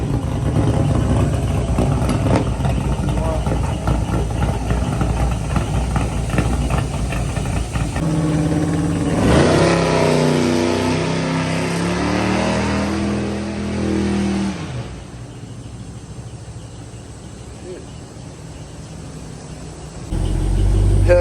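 A Dodge Hellcat with a newly fitted loud aftermarket exhaust rumbles at idle, then revs hard in a rising and falling roar before settling back to a deep idle, close and very loud throughout.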